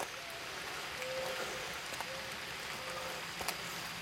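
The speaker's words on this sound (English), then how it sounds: "it's starting to rain pretty hard" Heavy rain falls outdoors in humid, jungle-like weather, a dense steady hiss of drops pattering on surfaces close by with a few louder splats, continuous and without speech.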